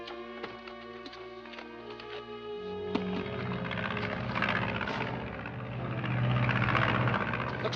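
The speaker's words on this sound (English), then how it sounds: "Looks like one of Fowler's planes." An airplane, one of Fowler's aircraft in an early 1950s setting, drones overhead as a steady engine hum that swells louder through the second half, heard alone.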